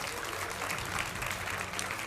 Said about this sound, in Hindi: ताली बजाइए भाई उनके लिए।